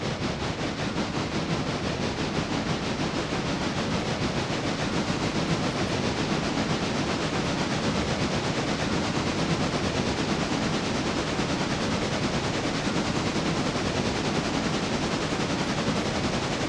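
Steady dense rumble and roar of a train rolling along in a railroad video game, constant and loud for the whole stretch with no pauses and no voices.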